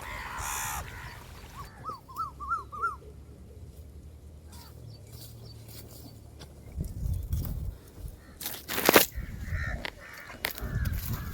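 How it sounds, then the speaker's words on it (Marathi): A crow caws several times in quick succession against steady outdoor background noise, followed by rustling and scattered clatter nearby. "आले होते ना कावळे खायला"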